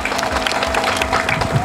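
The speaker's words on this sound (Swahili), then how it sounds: "Naomba tujipigieni makofi sana." A large outdoor crowd applauding at a public rally for the Uhuru Torch arrival in Misenyi district, Kagera, heard as a dense, steady wash of clapping over the whole brief moment, with faint voices mixed in.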